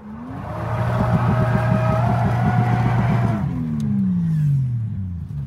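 A drifting Toyota Chaser revs hard with a loud, buzzy engine note and rising pitch, then backs off so the pitch falls away as the car slides past.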